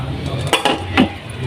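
A metal lid clanks and clinks onto a pan of sizzling sisig cooked over charcoal, a few sharp close metallic knocks over a steady low hiss.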